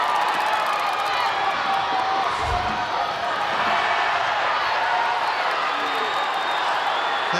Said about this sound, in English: You can hear what the Bloemendal section of the crowd thought about that